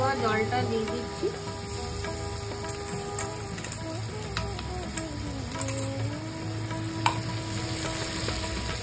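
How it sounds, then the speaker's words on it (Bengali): Sweetened water poured into mustard paste ground with poppy seed, chili, salt and turmeric, frying for prawn curry: a steady close sizzle and bubbling with light stirring scrapes throughout, no talk. "একটু মিষ্টি দেওয়া জলটা দিয়ে দিচ্ছি।"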